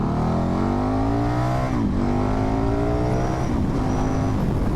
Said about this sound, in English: It's lovely when you accelerate, the way it pushes you into the tail unit